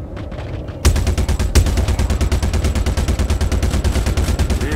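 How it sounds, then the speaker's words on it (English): Rapid weapon fire pounds the rear shield of a ship in Star Citizen, an Aegis Vanguard, as a loud, steady stream of closely spaced impacts that begins abruptly after a brief quieter moment and keeps going. "Rear shield under fire."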